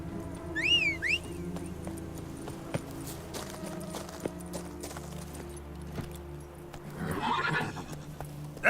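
A horse in the video game The Witcher 3 whinnies early on, followed by rhythmic hoof clip-clops and light movement sounds over a low ambient background.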